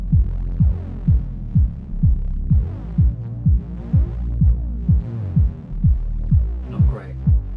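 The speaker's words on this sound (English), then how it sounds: "What does reverb sound like on a kick" A looped electronic kick drum with reverb plays in Ableton during a music production stream, a steady, evenly spaced series of deep booming thumps with a washy tail, loud and alone, with no speech.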